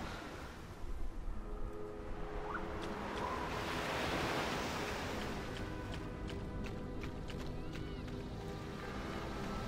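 Waves wash steadily against the shore by the water in the video game Star Wars: Knights of the Old Republic II – The Sith Lords, a continuous, moderately loud surf hiss with a breezy rush and no talking.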